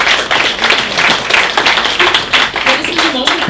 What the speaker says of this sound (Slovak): Ja myslím, že si zaslúži náš potlesk.